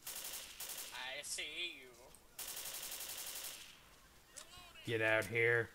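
Rapid bursts of gunfire in the co-op zombie shooter Left 4 Dead crackle across the clip, with broadband bursts clustered early and midway, while players talk over the action and in-game voices call out near the end.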